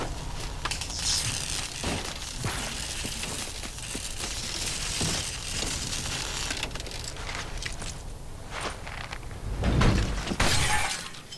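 Window glass smashing in the video game Call of Duty: Ghosts, a dense crash of shattering and tinkling fragments that runs across the whole stretch and peaks in a loud burst near the end, with game ambience underneath.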